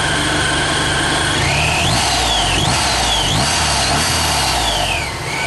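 A supercharged Subaru flat-four engine revs up and down several times in quick succession, the pitch climbing and falling in rising sweeps over a steady running drone, loud and close.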